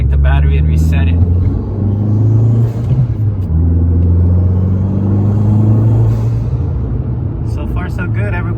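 Fiat Abarth running on E85 fuel cruises along a freeway, a steady loud engine drone and road rumble throughout with gear-change dips, while someone talks over it.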